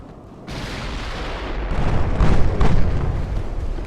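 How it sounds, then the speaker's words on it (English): A torpedo hit on a warship in the naval game Ultimate Admiral: Dreadnoughts, loud and close, with a sudden blast that swells into a deep rumbling roar and stays heavy to the end. "Torpedo hit."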